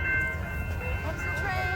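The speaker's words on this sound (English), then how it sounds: "Yeah, I see the train. You see that?" CPKC holiday train rolling past on the tracks at a crossing, a steady loud rumble with a faint horn tone held throughout, heard close by with people talking nearby.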